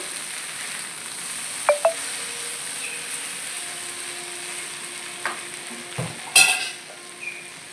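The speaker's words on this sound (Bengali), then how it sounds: "এটাকে দিয়ে ভালো করে ওপর নিচে করে এটাকে সটে করে নিতে হবে" Mushrooms and vegetables sauté in a pan, with a soft steady sizzle underneath and a few sharp clicks and scrapes of stirring spaced through it, close and fairly quiet with no talking.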